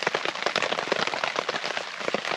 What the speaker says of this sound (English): if you want to go out in the rain because you love the sound of the rain